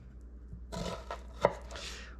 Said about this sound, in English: Get to cutting.